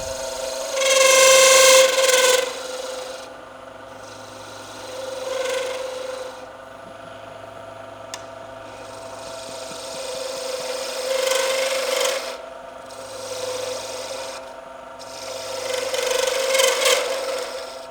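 Steady rasping and rubbing of sandpaper against a wooden pen blank spinning on a lathe, with a constant mechanical hum underneath and surges in loudness as pressure changes; no talking.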